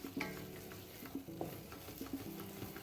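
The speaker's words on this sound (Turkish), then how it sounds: "yağ unun üzerine çıkana kadar iyice kavuruyorum" Flour being roasted in oil for flour halva, with a soft, low sizzle and repeated scraping stirs in an irregular rhythm, close but fairly quiet.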